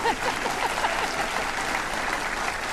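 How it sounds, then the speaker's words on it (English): Audience applauding at a senior recognition ceremony for students, a steady, dense round of clapping with a few brief voices heard over it early on. "Turn around, wave, give them a round of applause."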